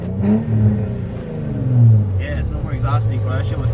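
A Nissan 350Z engine revs up and down at a traffic light with a loud, rising and falling roar close by, while someone talks over it.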